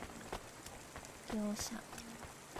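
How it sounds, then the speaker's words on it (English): Soft, steady rain patters in the video game Cloudpunk, a faint wash of drops heard under a voice speaking and scattered game sounds. "Don't let all the rain get you down."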